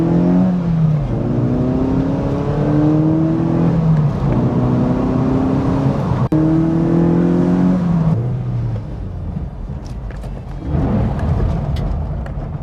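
A cheap, older Mazda MX-5 engine runs close by while warming up, its loud droning note climbing and falling in several throttle blips before settling lower.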